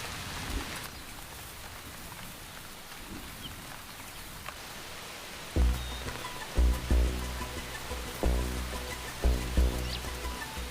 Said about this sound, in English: Rain can hinder her.